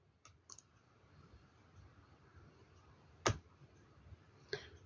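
A computer mouse clicks a few times, heard as sharp, close, isolated clicks with quiet gaps between them, including one crisp louder click, with no talking.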